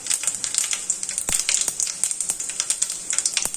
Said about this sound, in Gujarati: હવે તેલ ગરમ થાય પછી આપણે તેની અંદર આખું જીરું એડ કરીશું